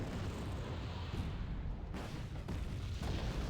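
Artillery fire in a video game sounds as a dense, rumbling low roar with muffled booms, including a heavy impact near the middle and another toward the end, continuous and fairly distant.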